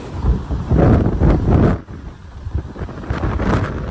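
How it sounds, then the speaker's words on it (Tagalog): Typhoon Mawar's strong winds batter Guam with loud, roaring gusts and heavy buffeting that rise and fall in surges, with no voices. "Palapit pa lang sa Guam pero ganito na kalakas ang paramdam ng bagyong Mawar"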